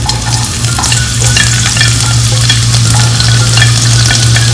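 Garlic fries in hot cooking oil in a pan, producing a loud, steady sizzle with fine crackling spits and a low hum underneath.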